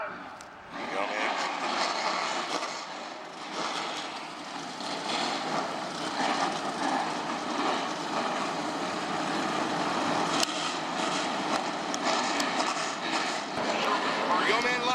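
Race car engines roar loudly and continuously at Portland International Raceway, a sustained droning blare over fifteen seconds with a voice talking over it.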